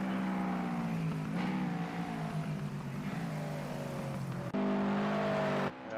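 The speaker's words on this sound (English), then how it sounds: "Gallen's doing some burnouts for us, good on him" Toyota 86 race cars in Project Cars 2 on the Brno GP circuit, one doing burnouts: steady loud engine drone with harmonic whine, a brief cut near the end before the roar resumes.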